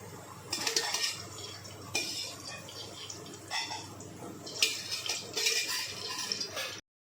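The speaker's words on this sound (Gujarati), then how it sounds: "એ હવે આપણે કઢાઈ લઈ લઈશું. તેમાં સિંગ તેલ રેડી દઈશું થોડું." A metal kadhai handled on the stove while groundnut oil is poured in for tempering: clinking and scraping metal knocks in short clusters, close and moderately loud, with no talking.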